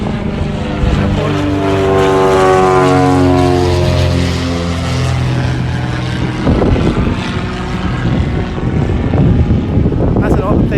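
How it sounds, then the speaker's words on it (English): A propeller plane takes off from Ogle Airport, its loud droning engine rising and shifting in pitch as it passes near, then giving way to rough, gusty rumble and wind noise as it moves off. "That's another plane taking off from Ogle Airport"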